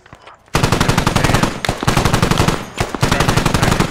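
Automatic machine gun fire in the military shooter Squad, loud and close, in three long rapid bursts separated by brief pauses after a quiet start.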